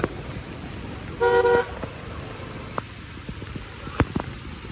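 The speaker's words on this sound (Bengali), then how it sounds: "অনেক বৃষ্টি পড়তেছে" Heavy rain pours steadily around a motorbike ride through Dhaka, a constant wash of noise with a short car horn toot early on and a few sharp knocks later.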